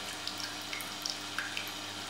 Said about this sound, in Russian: сейчас насос выгонит из картриджа содержащуюся в нем воду